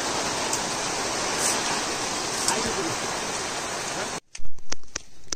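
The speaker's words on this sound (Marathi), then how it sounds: "पहिले जरा पाऊस कमी होऊ दे" Steady heavy rain pours down on a rural Kokan farm during monsoon, a dense continuous hiss that cuts out suddenly near the end, followed by a few close thumps.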